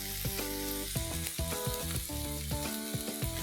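Finely chopped tomato with salt, red chilli powder and cumin powder frying together in a pan for a masala omelette, a close, steady crackling sizzle with constant bubbling pops.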